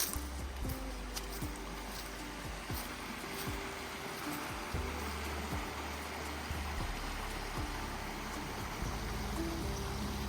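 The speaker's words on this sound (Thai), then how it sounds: "ลำธารเขาก็จะไหลลงมาเรื่อยๆนะคะ" A cold forest stream in Slovakia flows downhill with a steady, broad rushing wash, moderately close, alone with no voices.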